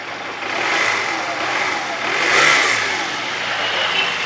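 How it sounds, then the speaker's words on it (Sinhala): A 2001 Honda CD 125T Benly motorcycle engine runs loud and close, its steady roar swelling as the throttle is revved up and eased back, with no one talking. "දෙන්න එන්ජින් සද්ද පොඩ්ඩක් බලා ගන්න කට්ටිය"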